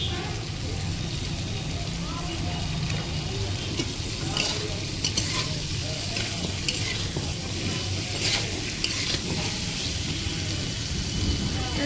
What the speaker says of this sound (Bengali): কিছুক্ষণ ভেজে নেব। দেখতে পাচ্ছি আমার প্রায় অর্ধেকটা ভাজা ভাজা হয়ে গেছে।